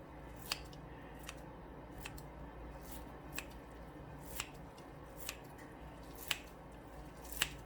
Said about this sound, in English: I'm just gonna use my scissor and cut it in 2 pieces